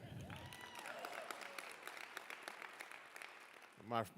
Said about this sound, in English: Yeah, you can clap to that.